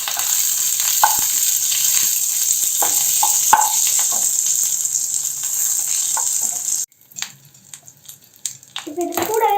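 Chana dal and curry leaves sautéing in a pan, a loud continuous sizzle with stirring clatter that cuts off abruptly near the end, giving way to sparse clinks.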